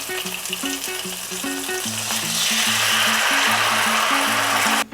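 Tamarind water poured into a hot pan for kootanchoru bursts into a loud, steady sizzle and frying hiss that holds throughout, with faint stirring scrapes and no talking.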